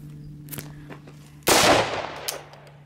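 A pistol fires during a failure-to-stop shooting drill, one sharp loud report ringing out over faint background noise and a steady hum, with lighter cracks before and after.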